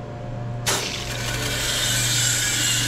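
A pressurized Supco Port A Blaster HVAC coil cleaning machine starts spraying after a brief lull. A sudden loud hiss begins and holds steady, close by, over a low constant hum.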